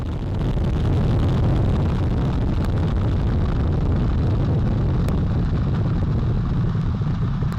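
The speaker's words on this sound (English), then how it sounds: "All 4 RS-25 engines on the core stage and 2 solid rocket boosters now propelling the vehicle at 128 miles per hour." Artemis I rocket launch, with four RS-25 core stage engines and two solid rocket boosters roaring in a deep, continuous rumble with crackling distortion, loud and steady without pause.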